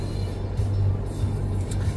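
A car driving along the Swiss Rhine Valley, heard from inside as a steady low engine and road drone with a faint hum and no talk.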